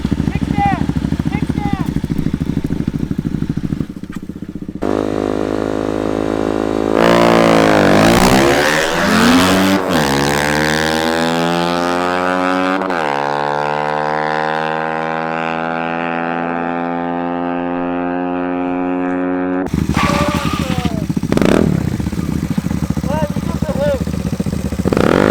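A 2Fast 100cc two-stroke Honda Ruckus scooter drag races a Nissan GT-R R35, with loud revving engines climbing through the gears in a long sustained pull, and voices around it at the start and end.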